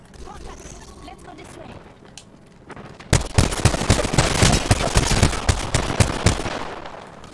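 Rapid gunfire bursts from an Apex Legends match on Xbox One erupt loud and close after a quieter start, dense volleys crackling under players' voices talking.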